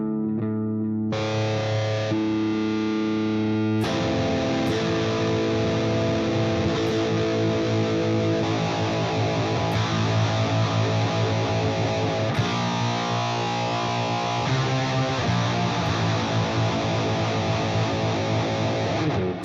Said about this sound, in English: Switch engages the octave up effect, adding distinctive high-pitched overtones reminiscent to the Octavia pedal.